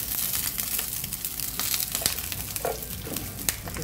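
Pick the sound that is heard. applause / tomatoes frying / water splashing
tomatoes frying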